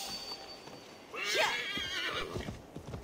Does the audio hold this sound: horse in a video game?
yes